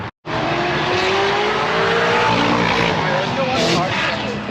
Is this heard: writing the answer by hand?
no